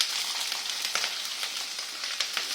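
Pumpkin and potato pieces sizzle steadily in a hot wok, a dense, even crackle of frying with small pops and bursts throughout, close and fairly loud with no talking.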